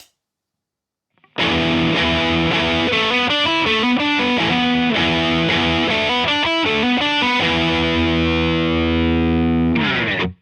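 An electric guitar plays a heavy, distorted riff through a Revv G4 amp boosted by a Rodenberg pedal, loud and saturated with a driving chugging rhythm after a short silence, ending on a sustained chord.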